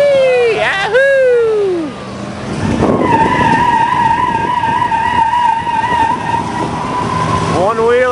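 A Plymouth Barracuda on small 13-inch tires does a loud, sustained burnout before a grandstand at a muscle car show, the steady high tire squeal running for several seconds after an opening rev, with excited voices shouting over it near the start and end.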